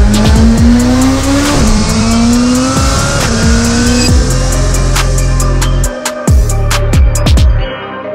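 A 1400HP all-wheel-drive EG Honda Civic race car roars hard from the cabin, its engine climbing through repeated gear shifts while the tires squeal, very loud and continuous throughout.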